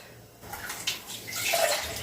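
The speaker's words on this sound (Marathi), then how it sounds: "हे मी आता पाणी मोजून घालते यात" A measured amount of water is poured into coarse bajra millet flour while making a boiled dough for bhakri flatbread. It makes a short, close splashing pour that swells over about two seconds, with no talk.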